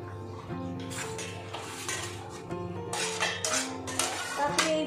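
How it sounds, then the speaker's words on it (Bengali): Knife chopping fish roe into small pieces on a board in a home kitchen, a run of clicks and taps with clinks of utensils against dishes, moderately close, under low background voices. "মাছের ডিমটাকে ছোটো ছোটো করে কেটে নিতে হবে"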